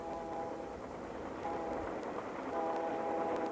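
Passenger train on the Canadian transcontinental line pulling into Banff station in the mountains, a steady rumbling rail roar with sustained horn-like tones sounding in bursts, loud and continuous without speech.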